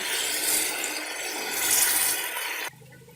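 Boiled chickpeas poured with their cooking water into masala in a pan for moti pulao, a loud broad sizzling, splashing rush lasting a few seconds before cutting off abruptly to a quieter simmer.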